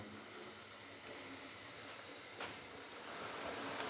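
Chickpeas roasting with spices in a pan for Lahori chana give a steady, quiet broadband sizzle and hiss, continuous and close, with one brief crackle midway and no voices.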